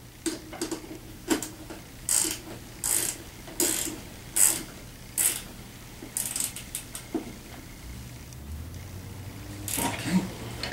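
Rapid ratchet clicks come in a series of short bursts with brief pauses as bolts on the kickstand of a Tao Tao 50 T3 scooter are snugged down. The sound is close and moderately quiet, with faint room noise between strokes.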